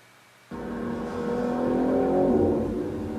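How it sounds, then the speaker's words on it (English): BMW M3 G80 with an upgraded aftermarket exhaust starts up and revs while driving, a steady engine drone that swells and climbs in pitch over a few seconds, fairly loud with no talking. "it is just a little upgrade sound-wise over the stock exhaust"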